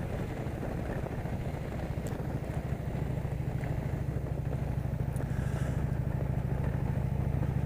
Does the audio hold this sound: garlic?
no